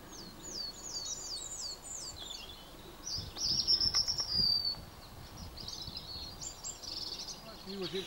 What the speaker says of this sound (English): Lovely bird song in the trees.